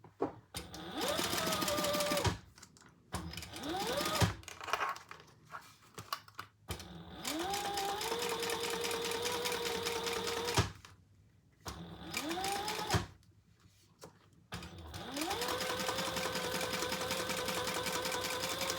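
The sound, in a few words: sewing machine topstitching leather pumpkin bag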